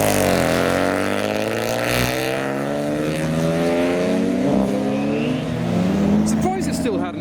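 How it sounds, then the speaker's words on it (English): A loud, heavily modified BMW E36 roars away from a car show, its engine climbing through rising harmonics as it accelerates, close at first and then pulling off, with a voice talking over it. "We now have a very noisy E36 making its departure."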